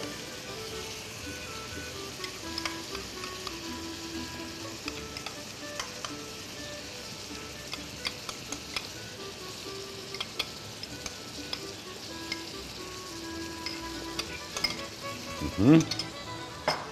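Okra sizzling and frying in a pan after sauce is added, a steady close crackle with light clinks of a utensil and a brief louder stir near the end, with faint speech.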